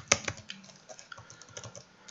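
Keys on a computer keyboard tapped while entering a formula in a LibreOffice Calc spreadsheet: a sharp opening keystroke followed by a quick, uneven run of lighter clicks, close and fairly quiet, with no talking.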